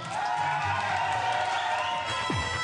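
Wedding guests clap and cheer as the bride and groom make their entrance, a continuous dense crowd roar with whoops and shouts at moderate distance.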